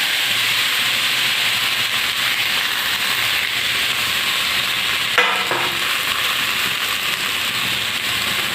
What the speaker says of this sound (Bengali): এবার আমি এটার মধ্যে দিয়ে দিচ্ছি বেগুন আর বেগুন কড়াই